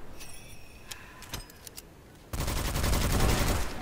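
Gunfire while shooting enemies in an extraction roguelike witch-hunting video game: a few scattered sharp shots and metallic clinks, then a dense, loud burst of sustained fire that carries through to the end, with no voices.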